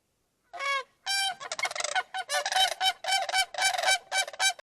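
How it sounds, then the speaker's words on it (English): Sandhill crane giving its low bugling call, a string of loud, rolling, rattly calls in quick bursts, close by and heard alone without any talk. "Once you hear the unusual, low bugling call of the Sandhill Crane, you're not likely to forget it."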